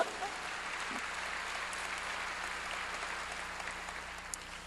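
A church congregation claps together during a sermon, a steady, dense wash of applause sustained throughout without a break.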